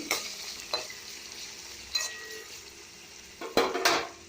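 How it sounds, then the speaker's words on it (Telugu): Onions, curry leaves, green chillies and cumin fry in a pan for a prawn fry, giving a steady close sizzle broken by several louder scraping stirs of a spoon against the pan. "సిమ్లో పెట్టి ఆనియన్ పీసెస్, కరివేపాకు, పచ్చిమిర్చి, జీరా బాగా వేయించాలి"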